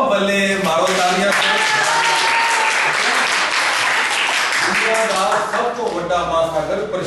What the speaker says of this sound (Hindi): पल्ले मारो तालियां